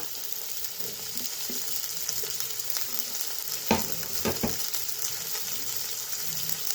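Ginger, garlic and green chili frying in oil for soybean kosha, a low steady sizzle with a few sharp stirring clatters midway; no talking.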